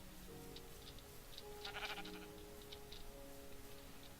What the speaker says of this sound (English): Okay, there's a sheep.